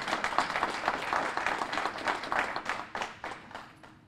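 An audience applauds at a grocery store announcement in the Avondale area, a lively burst of clapping that gradually tapers off.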